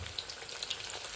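Soya egg roll frying in hot oil, a steady dense crackling sizzle with scattered bright pops, close and continuous with no voices.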